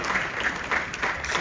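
Audience applause at a Six Flags fan panel during the Midsummer Scream 2023 convention, a steady dense wash of clapping from a crowd filling the whole stretch at even loudness.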